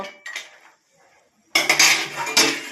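Soybeans stirred in a pot of hot water: clinking of a metal spoon against the pot comes in a short burst, a quiet pause, then a louder stretch of scraping and clattering close by.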